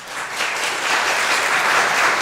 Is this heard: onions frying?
no